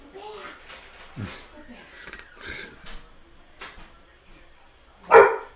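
Pet dogs bark in a house after the doorbell rings, a few sharp barks scattered under ongoing conversation, with one louder close bark near the end.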